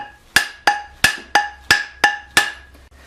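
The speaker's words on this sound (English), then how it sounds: "get the metal hammer out and then beat on it a little bit" Seven sharp metallic strikes of a metal hammer on a steel adze head ring out at a steady pace in a blacksmith's forge, each with a bright clanging tone that decays quickly before the next blow.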